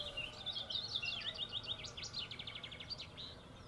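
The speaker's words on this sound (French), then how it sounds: "C'est à nouveau le merle." A common blackbird sings a run of bright, fluting whistles and chattering trills outdoors. The song is faint and somewhat distant over a low background hum, and no one talks.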